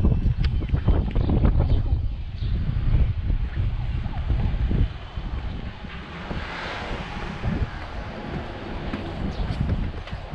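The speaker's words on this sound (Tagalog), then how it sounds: "Ang lakas ng hangin." Strong gusting wind buffets the microphone with a constant low roar, easing slightly partway through, no talking.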